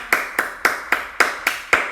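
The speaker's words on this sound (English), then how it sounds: "So stand up, everybody. Give them a clap." Children clapping together at a primary school assembly, seven sharp, evenly spaced claps in a steady unison rhythm, loud and close with no talk over them.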